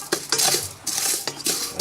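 A hot pan of rice being popped in a workshop, shaken quickly so it gives loud, close metallic scraping and rattling in several rapid sweeps.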